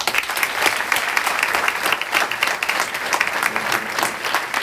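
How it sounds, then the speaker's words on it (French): A large audience at a student show claps steadily and loudly, a dense unbroken applause with no speech over it. "Je pense qu'on peut tous les applaudir."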